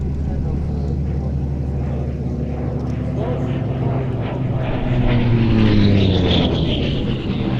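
A Grumman Bearcat, a piston-engine fighter, flies at the Sywell airshow with a deep propeller drone that swells as it passes nearby, its pitch bending downward, under a steady background roar.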